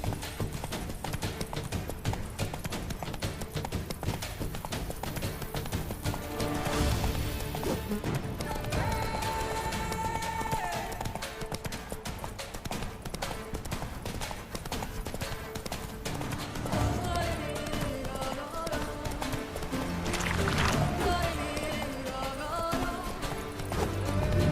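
Horse hooves clip-clopping at a gallop in the video game The Witcher 3: Blood and Wine, steady and close throughout with occasional neighs, layered over continuous game music.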